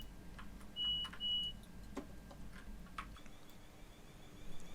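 Two short bright chime-like beeps ring out in a BR Class 444 train cab on the South Western Main Line in a railway simulator game, near and clear over a low electric hum, followed by faint ticks.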